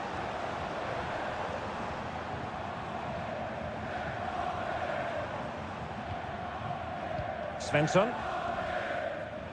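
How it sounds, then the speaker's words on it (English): Steady roar of a stadium crowd in a football video game at a corner kick, a continuous wash of noise with a brief louder swell near the end, under a commentator's voice. "just listen to the crowd"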